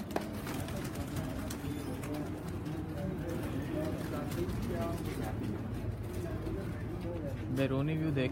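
Soft, throaty cooing of several pigeons close by, repeated in rolling phrases, with someone talking over them throughout.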